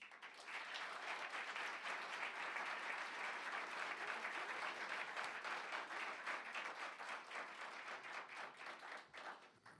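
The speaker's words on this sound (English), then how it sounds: "A resounding round of applause and thank you, Dr. Cook, for being this year's recipient of the Windsor Bridge Builders Award." Audience applause for the recipient of the Windsor Bridge Builders Award, a sustained round of many hands clapping at steady strength that tapers near the end, fairly distant and with no speech over it.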